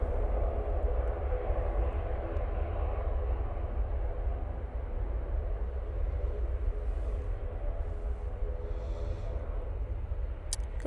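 An ATR turboprop aircraft departing for Guernsey from Manchester Airport produces a steady, distant engine roar with heavy low rumble, continuous and unbroken, with no voices over it.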